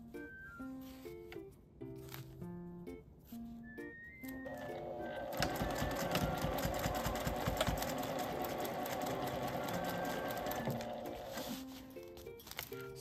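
A home sewing machine stitches aluminum-foil cooler-bag sheets from a Daiso bag with a 5 mm seam allowance, starting in short stop-start bursts over light music, then running in one long steady whirring run.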